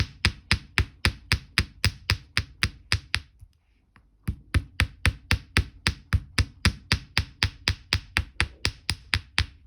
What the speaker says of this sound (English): put it on my block, and just give it a hammer